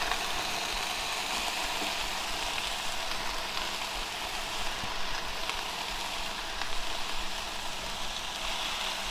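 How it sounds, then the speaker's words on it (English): Vegetables hiss on a hot Blackstone griddle during a chicken stir fry, a dense, even sizzle up close that holds steady throughout without voices. "And see, you want that sizzle."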